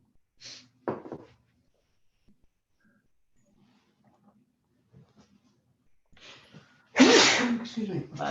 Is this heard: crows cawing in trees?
no